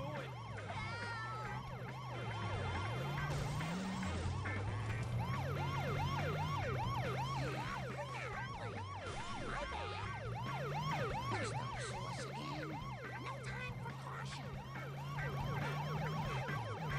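Police car siren in the video game The Simpsons: Hit and Run, a continuous wailing that rises and falls over engine hum and game music, steady and prominent for the whole stretch.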